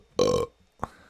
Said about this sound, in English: That burp.